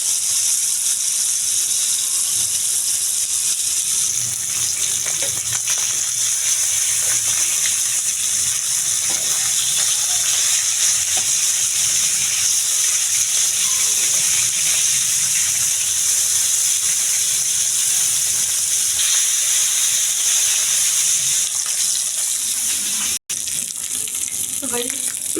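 Rohu fish fries in hot oil in a pan, a loud continuous hiss and sizzle lasting throughout with scattered crackles, close and unbroken, no voices.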